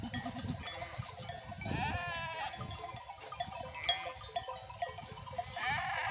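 Close, wavering bleats from a roughly 19–20 kilo lamb repeat several times, overlapping with other sheep or goat calls and shuffling hooves, loud and near with no speech.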